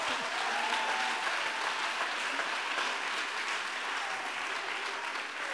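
Audience applause in a church testimony gathering, a steady wash of clapping from many hands held at even strength for several seconds, with no talk over it.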